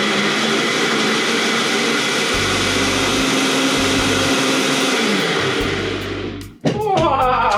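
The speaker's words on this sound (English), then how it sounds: "let's blend it" A blender whirs loudly and steadily, blending mango cake puree sweetened with agave for a vegan eggless cake. It runs for about six seconds, then cuts out abruptly, followed by a brief voice.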